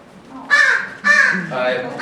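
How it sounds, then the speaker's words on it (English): An American crow gives three harsh, drawn-out caws in quick succession, each loud and close with a rough, buzzy tone, one after another with short pauses between. "she's an American crow."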